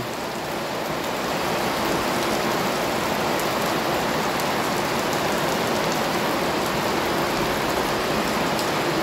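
Heavy rain suddenly pours down on a Philippine farm around midday, a dense, steady roar of water hitting surfaces that stays loud and unbroken throughout.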